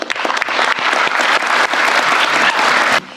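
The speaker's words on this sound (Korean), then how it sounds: "박수로 마치겠습니다" Sustained applause from a group of officials closing a Korean government ministry work-report meeting, loud, dense clapping throughout that drops off sharply near the end.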